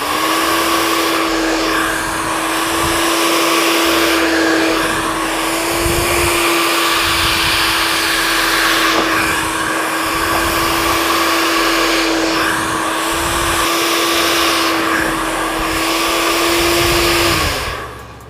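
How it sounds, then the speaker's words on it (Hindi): A hair dryer runs loud and steady for about eighteen seconds while blow-drying layered-cut hair at home, its whine and airflow broken only by brief brushing rustles before it switches off at the end. "अब सारे बालों को पकड़ के एक साथ इस तरीके से ड्रायर करेंगे।"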